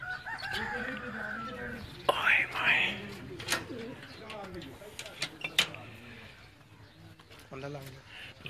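Pigeons on a rooftop in Sialkot give short, scattered bird calls that rise briefly above nearby voices talking throughout.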